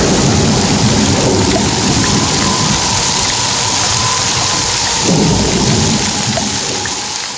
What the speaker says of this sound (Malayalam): താമസിയാതെ ഇടിവെട്ടോടുകൂടി മഴ പെയ്തു.